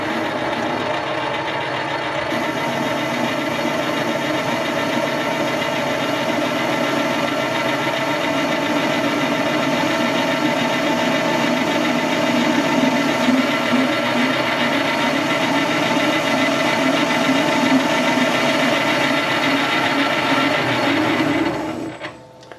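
Metal lathe running steadily in back gear while facing a part, a continuous close mechanical drone with a low rhythmic gear rumble and a faint high whine, stopping abruptly near the end.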